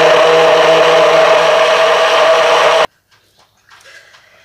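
A blender whirs loudly and steadily, mixing Caesar salad dressing with added oil, then cuts off abruptly, leaving near silence with faint kitchen clatter.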